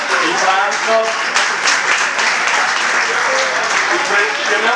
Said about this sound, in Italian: così gli facciamo un bel applauso